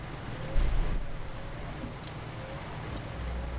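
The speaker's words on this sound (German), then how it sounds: "es regnet die ganze Zeit" Steady rain falls during a night drive in Euro Truck Simulator 2, a soft continuous patter and hiss with a low engine rumble underneath and a brief louder thud near the start, fairly quiet and with no talking.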